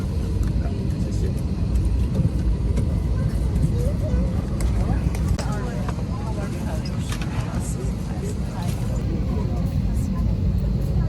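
Steady broadband roar of a Scoot Airlines airplane cabin, continuous and fairly loud throughout, with people talking over it.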